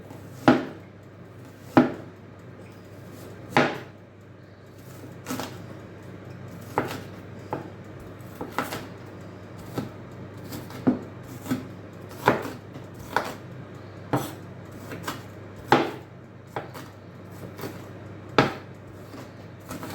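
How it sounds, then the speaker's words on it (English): Knife roughly chopping food on a cutting board in a home kitchen, a steady series of sharp, close thuds about every second over a low background hum. "Now just roughly chopping them."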